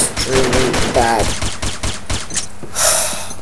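Uzi submachine gun fire in the online shooter Combat Arms: rapid, dense bursts of automatic shots running nearly the whole time, loud and close, with brief game sound effects and a voice mixed in.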